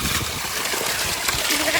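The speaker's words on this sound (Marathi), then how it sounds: "मेंढरं आल्यात पाण्यावर. बोर चालू केलाय." Borewell pump pouring water with steady splashing as sheep come to drink, a continuous broadband rush close by with no talk.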